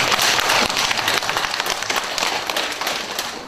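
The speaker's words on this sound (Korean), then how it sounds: "한번 격려의 박수를 하십시오" A church congregation applauding in encouragement after a choir sings at a Sunday service: dense, steady clapping from many hands filling the room, loud at first and slowly tapering off.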